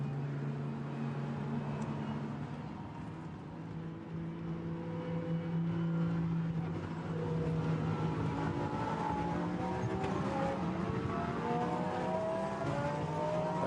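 Lamborghini Super Trofeo race cars pounding over the timing line at the Nürburgring, a steady howl of multiple engines with rising and falling pitch sweeps as the pack streams past, sustained and fairly loud.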